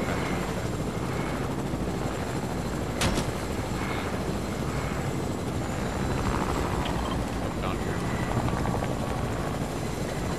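A helicopter flies in Fortnite, its rotor and engine giving a steady, loud, wide roar that fills the whole clip, with one brief sharp crack partway through and no talk.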